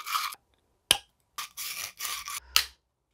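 Supports and stringy bits being cleaned off freshly 3D printed trumpet parts: a series of short, close, crisp scraping and snipping bursts with sharp clicks, separated by brief silences.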